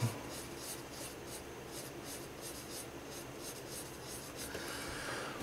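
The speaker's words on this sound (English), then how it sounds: "you can lay down some light shades of graphite just like that" Light graphite shading on paper while drawing clouds: a steady soft scratching and rubbing of pencil strokes, close and quiet, in a rhythmic series of short strokes with no talking.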